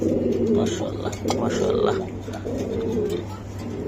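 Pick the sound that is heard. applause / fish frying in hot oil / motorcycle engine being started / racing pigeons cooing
racing pigeons cooing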